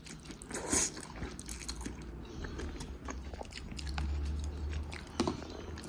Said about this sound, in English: let's try the noodles